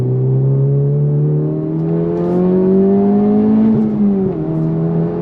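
An FL5 Honda Civic Type R, stock apart from a catback exhaust, accelerating hard with a strong rising engine drone that climbs steadily in pitch, then dips briefly near the end before pulling again, loud and close from inside the car.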